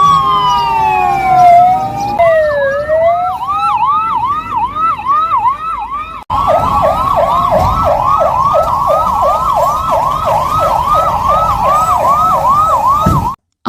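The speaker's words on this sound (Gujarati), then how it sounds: "2 મિનિટ માટે એક જ ચેતવણી સાયરન વગાડવામાં આવ્યું" A loud civil defence warning siren wails during an air raid and blackout mock drill in Diu, sweeping repeatedly up and down in a steady cycle before cutting off abruptly near the end.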